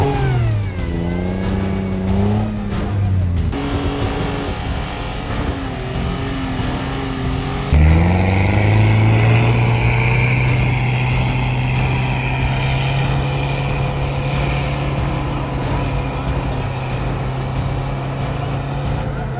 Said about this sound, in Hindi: मेरी गाड़ी के टायर जो हैं वो फारे हैं, तो इस वजह से बहुत ज़्यादा फंसी है गाड़ी